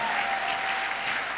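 A church congregation gives a brief burst of loud, dense applause with a steady wash of clapping and no pause.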